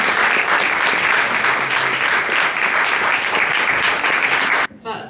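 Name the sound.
audience applause for a panel speaker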